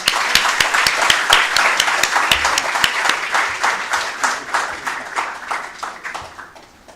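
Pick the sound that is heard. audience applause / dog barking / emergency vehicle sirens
audience applause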